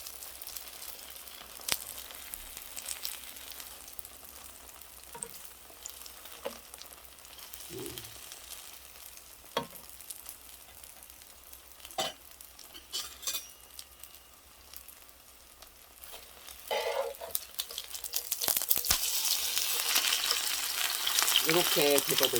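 Chive pancake batter frying in preheated oil on a hot pan: a faint sizzle with a few scattered clicks early on, swelling into a steady, loud crackling hiss near the end.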